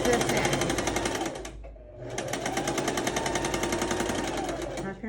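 A sewing machine on straight stitch runs fast and loud while back stitching a scrub cap, pausing briefly near the start before resuming a steady, rapid hammering run.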